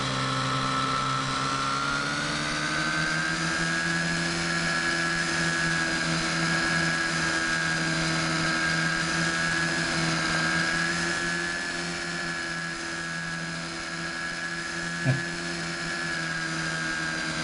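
A twin-rotor model helicopter in a flight simulator game produces a steady, high-pitched turbine-like whine with stable tones that hold for the whole stretch, and there is one brief click partway through.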